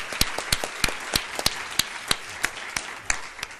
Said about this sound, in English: I think we'll give our panelists a last round of applause